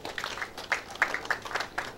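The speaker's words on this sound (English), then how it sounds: "A hand clap for our current speaker." Audience at an International Youth Day celebration in Kitgum District giving a hand clap, a short run of scattered individual claps, fairly faint and sparse rather than a full ovation.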